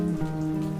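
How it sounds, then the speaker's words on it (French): Steady rain falling on a cold night, a continuous even hiss with no distinct drops or thunder, heard alone. "Il pleut."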